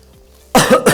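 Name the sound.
man coughing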